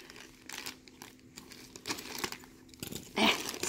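A shipping package holding puppy booties is ripped open by hand. It gives quiet, scattered crinkling and tearing of plastic and paper that builds to a louder tear near the end, with no voices.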